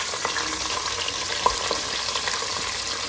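Sliced onions sautéing in a pan for chicken biryani give a steady, close sizzle with occasional stirring clicks and scrapes, no voices over it.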